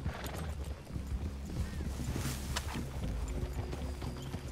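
Horses in the Red Dead Redemption 2 video game, with steady clip-clopping hooves and a brief whinny over a continuous outdoor ambience, fairly close and moderately loud.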